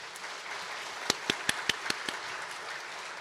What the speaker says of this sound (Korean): 예, 박수로 환영하겠습니다.